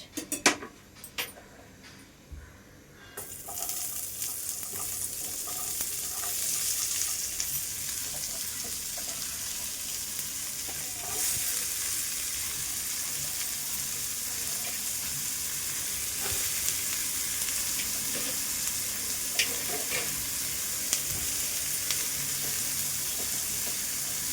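Onions fry in a wok with a loud, steady sizzle that takes over after a few seconds of quieter clatter, with occasional stirring and utensil clinks, close and continuous throughout.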